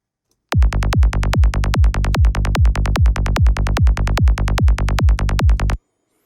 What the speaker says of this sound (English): a regular saw bass, where we've done loads and loads of distortion and things like that